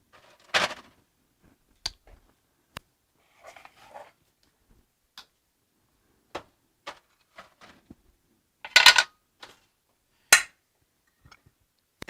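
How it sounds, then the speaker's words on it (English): Metal baking pans being handled and slid into a home oven, a series of sparse sharp clinks and knocks spread out over quiet pauses, fairly close and loud, with no talk. "So I'm putting them both in the oven at"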